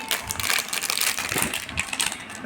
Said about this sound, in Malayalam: നമുക്ക് ഈ കവറൊക്കെ ഒന്ന് കളയാം